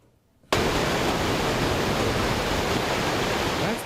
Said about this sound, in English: That's the sound of 200 cubic feet per second of water being released into the canal from Murtaugh Lake,